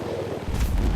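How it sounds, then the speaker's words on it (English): A large explosion from a helicopter-fired rocket blasting a village in a blocky video game, a sudden deep boom that swells into a heavy rumbling roar in a single brief burst. "As you can see, very large explosion there."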